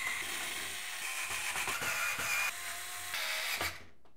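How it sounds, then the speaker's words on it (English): A motherboard being screwed into a Thermaltake Ceres 350 MX PC case with lipped screws, close metallic ticks and ratcheting turns over a faint background hum, ending abruptly. "secure the motherboard to the case using the screws with a little lip around the outside from the case accessory bag"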